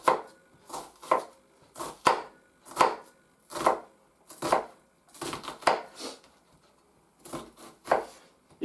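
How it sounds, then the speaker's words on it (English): A knife chops an onion on a cutting board in quick, regular strokes, crisp close-up thuds in short bursts with brief pauses between. "Now, I'm going to get on with the chopping"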